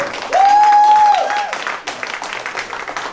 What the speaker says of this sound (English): So we'll put a huge round of applause for them.